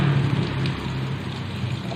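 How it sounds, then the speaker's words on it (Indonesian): A strong stream of water pours from a garden tap into a biopore hole in the ground by a house, a steady close rushing splash with no break throughout. "deras air yang dialirkan dari keran"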